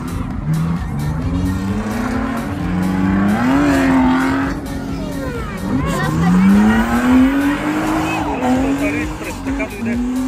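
Drift car with a 2.5-litre supercharged engine revving hard through rising and falling sweeps while its tyres squeal in long skids, loud and close, with people talking over the engine.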